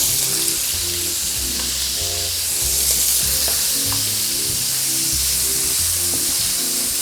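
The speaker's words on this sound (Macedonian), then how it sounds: "И пропржете ги додека не добијат златна боја" Steady sizzling and crackling of bacon frying in a pan, loud and continuous, with a low background hum and occasional sharp pops.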